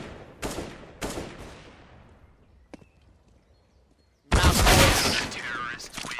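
Counter-Strike: Global Offensive gunfire in a pro match: two sharp single shots with echoing tails, a brief click, then a sudden loud, sustained burst of rapid fire.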